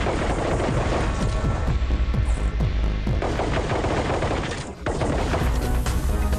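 Dense, rapid handgun fire in the VR shooter Sweet Surrender, loud and near, with repeated sharp shots and impacts over a booming game soundtrack, briefly dropping out before resuming.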